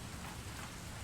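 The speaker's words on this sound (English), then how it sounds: "it starts to like downpour rain" Heavy rain pours down at dawn in a steady, dense hiss with no gaps, loud and close, with no voices.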